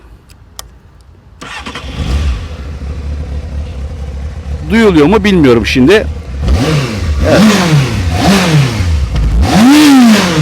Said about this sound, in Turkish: ben size aklıma gelmişken de motorun sesini de dinleteyim